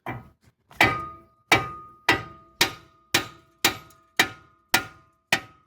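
A hammer strikes a steel control arm bolt on a 1998 Ford Explorer in about nine evenly spaced, ringing metallic blows. The hits are close and loud with no talking.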